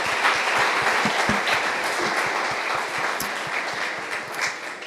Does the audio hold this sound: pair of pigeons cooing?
no